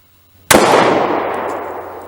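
Springfield XDS 9mm pistol firing a single shot, a sharp loud crack with a bright decaying tail outdoors, alone with no talk.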